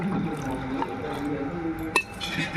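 Water is poured by the cup into a cooking pot, a soft continuous trickle and splash with a sharp clink near the end, close and fairly quiet.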